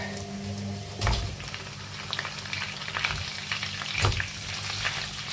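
Corned beef frying in a sautéed mix in a pan gives a steady sizzle with scraping stirs, two louder clattering knocks of utensil against the pan standing out, and no voices.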